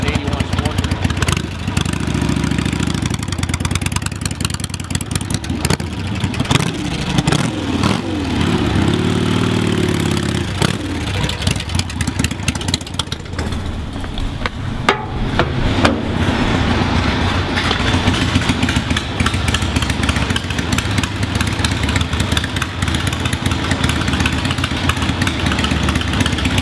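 A 1981 Harley-Davidson Sportster, all original, idles with a loud, steady, throbbing engine rumble that fills the whole stretch, a few brief revs rising and falling, with no speech over it.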